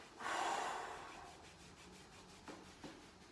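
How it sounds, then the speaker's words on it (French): A person breathes during a body exercise session, starting with a long, loud breathy exhale that fades, then a couple of small rubbing or tapping sounds close by. "N'oubliez surtout pas la respiration"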